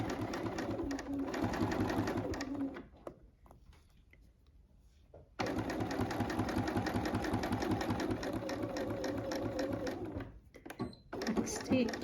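Sewing machine stitching binding onto a quilt, running in steady fast bursts with a pause in the middle, close and clear, while a person talks.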